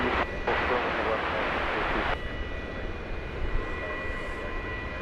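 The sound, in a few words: airliner touching down at DFW airport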